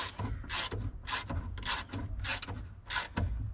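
A ratchet clicks in six evenly spaced bursts, close up and crisp, tightening the steering column bolts on a Jeep Wrangler YJ with no talking.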